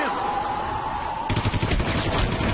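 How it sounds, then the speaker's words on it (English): Bursts of rapid automatic gunfire in Hitman: Absolution, loud and sustained in the second half after a steady tonal hum, with no talk over it. "Positive gunshot fire."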